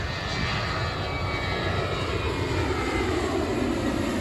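A jet airliner roars steadily as it takes off, a broad continuous engine rush at moderate distance with no voices.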